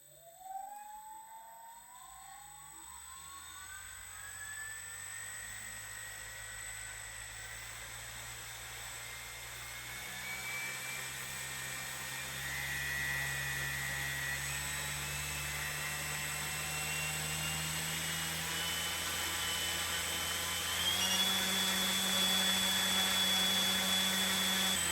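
A small RC2211 or RC2212 brushless RC motor spins on a test bench at minus 30% throttle, giving a thin rising electric whine that settles into a steady high-pitched hum, stepping up slightly in pitch as it runs.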